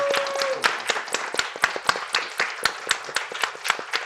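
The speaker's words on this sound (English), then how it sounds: "please help me give a big round of applause" A small audience claps after a talk about escapees from North Korea's capital, with sparse, distinct handclaps in an uneven rhythm, fairly near and moderately loud, following a brief tone at the start.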